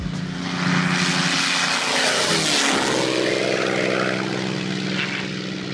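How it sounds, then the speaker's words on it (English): A propeller airplane roars loudly past at close range, engine drone rising and sweeping in pitch as it climbs away, with steady broadband wind-like noise throughout. "This plane took off really close to the person holding the camera"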